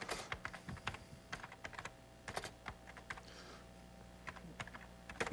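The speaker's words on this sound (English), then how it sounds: "I'm going to show you how bad my typing is." Quiet, uneven typing on a computer keyboard, keys clicking in irregular bursts with short pauses between them, close by against faint room hum.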